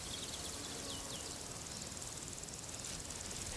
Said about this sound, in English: Sounds of insects,